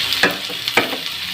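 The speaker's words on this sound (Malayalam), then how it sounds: "മാങ്ങയെല്ലാം ചേർത്ത് കൊടുത്തിരിക്കുകയാണ്. ഇങ്ങനെ ഇളക്കി കൊടുക്കുക." Mango pickle being stirred in a pan gives a couple of short scraping strokes over a soft, continuous sizzle.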